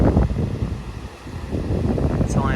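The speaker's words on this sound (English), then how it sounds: "And that wind is definitely picking up." Wind gusts buffet the microphone outdoors on a hazy, chilly day by the surf, a rumbling whoosh that swells, dips and rises again, with no talk.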